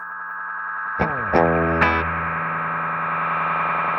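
Guitar run through a 1976 Roland DC-50 digital chorus at high intensity self-oscillates into a steady droning whine, with three quick plucked notes setting off smeared, repeating echoes that hang on after them.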